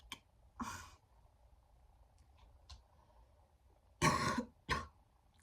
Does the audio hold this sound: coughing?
yes